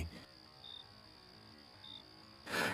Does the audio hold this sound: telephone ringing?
no